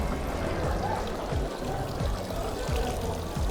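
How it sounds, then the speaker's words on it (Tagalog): Water streams steadily from a dragon-shaped fountain spout at a temple in Asakusa, Tokyo, a continuous close splashing pour with faint voices in the background. "Yung nagluluwa ng tubig."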